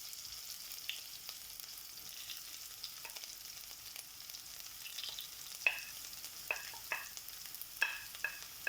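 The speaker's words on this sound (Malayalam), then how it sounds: "ആ കൂട്ടത്തിൽ നമുക്ക് നമ്മുടെ പച്ചമുളക്, കറിവേപ്പില, ഇഞ്ചി, വെളുത്തുള്ളി ഇത്രയും മൂപ്പിക്കാം." Green chilli, curry leaves, ginger and garlic frying in oil with popping mustard seeds, a soft steady sizzle punctuated by scattered sharp crackles and pops, close and fairly quiet, with no talking.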